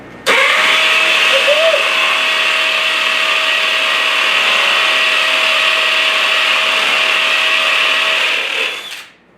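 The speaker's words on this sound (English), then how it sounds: "Now we're going into speed 3, full hammer mode, drilling through the slump block." A DeWalt DCD998 hammer drill at speed 3 in full hammer mode bores into slump block, starting abruptly into a loud, steady high-pitched whine and rattle that holds for several seconds, then stops.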